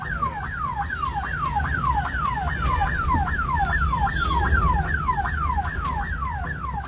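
An ambulance siren wails in a rapid, repeating rising-and-falling pattern over the low rumble of a Hyderabad traffic jam, sounding at moderate distance and steady throughout.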